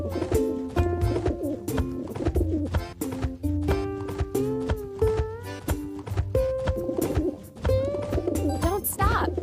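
Pigeons coo in a kids' farm video game over a steady backdrop of cheerful game music with melodic tones, the soft bird calls blending into the busy, fairly loud soundtrack.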